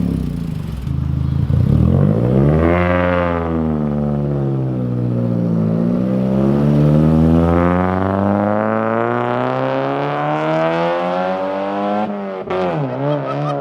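A Mazda Miata fitted with a Manzo catback exhaust accelerates hard nearby, its engine note climbing, dropping at a gear change, then rising again, loud and raspy as it pulls away.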